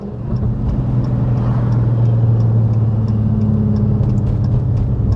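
A manual six-speed Dodge Hellcat of about 1,000 horsepower drones steadily from close by, a deep, even engine rumble that rises slightly at the start and then holds without distinct blips.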